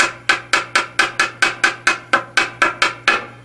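Regular tapping on an RGB under-cabinet puck light: a steady series of about thirteen sharp, even knocks in quick rhythm, close and distinct, over a faint low hum.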